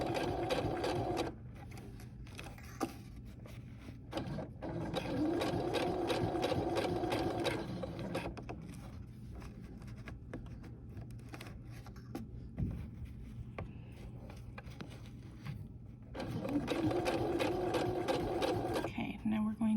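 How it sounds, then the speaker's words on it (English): A sewing machine stitches along a crossbody bag strap in steady runs, pausing partway through and then starting again, with a voice talking over parts of it. "make sure that none of the strap is where you're trying to sew"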